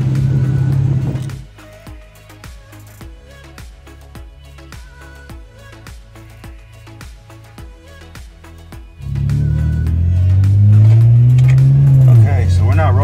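A wide-body BMW 335i with double-stacked wheel spacers rumbles along. A quieter stretch follows with a steady, rhythmic ticking, then the engine grows loud again and revs upward near the end.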